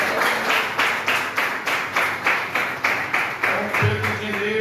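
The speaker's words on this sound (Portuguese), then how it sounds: "Quem bate mais palmas?" Congregation in a church service claps in a steady rhythmic beat, about two claps per second, loud and unison, with a faint voice underneath.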